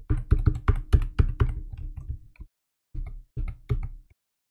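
A captcha is typed on a computer keyboard during an online application, with close, crisp keystrokes in a rapid run, a short pause, then a few more taps and no talking.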